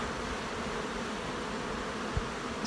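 Honeybees at an open beehive during an inspection, a continuous soft buzzing drone with a single small tap near the end, faint and without any talking.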